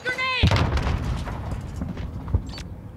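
A grenade goes off in a first-person shooter match as a heavy low thump right after a brief voice, followed a moment later by a second, softer boom, with game noise underneath.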